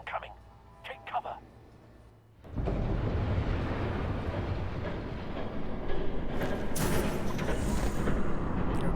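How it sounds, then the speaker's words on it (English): After a few spoken words, a train roars past close by in a Batman video game, a loud sustained rumble with rattling that swells toward the end. "There's a train coming. Take cover."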